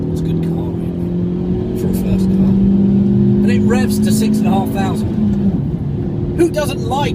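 Fiat Grande Punto 1.2 petrol hatchback revving hard on the move, its engine drone climbing steadily then easing off, loud and close inside the car with a person speaking over it.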